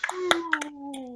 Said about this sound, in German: dann machen wir jetzt so einen schönen Applaus-Effekt